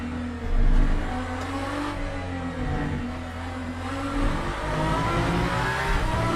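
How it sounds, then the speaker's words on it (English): An Aston Valkyrie GTP race car engine in the video game Le Mans Ultimate roars steadily, its pitch rising and falling slightly as it revs, loud and continuous. "this car is quite loud"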